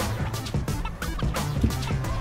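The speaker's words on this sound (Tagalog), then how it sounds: "Dito may itik nga rin dito." Ducks quacking and chattering close by in a large, tree-filled public park in Doha, a busy overlapping stream of calls heard continuously and fairly loud.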